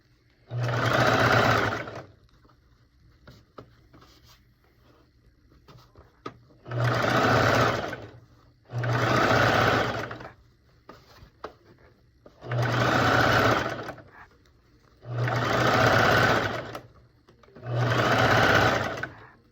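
Sewing machine stitching the hem of a circle skirt edged with horsehair braid, running in five steady bursts of a couple of seconds each, close and loud with quiet pauses between runs.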